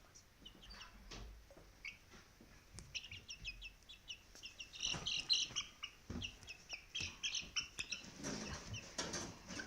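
A young rooster tries to crow with short, broken, squeaky calls among clucking, scratching and wing flaps of other chickens nearby, faint and irregular, with a person speaking at times.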